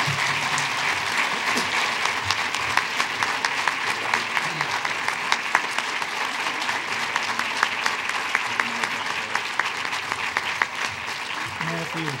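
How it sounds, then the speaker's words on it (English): Audience at an awards ceremony breaks into sustained, dense clapping that holds steady throughout, with a few voices faintly mixed into the applause. "Let's give her a round of applause."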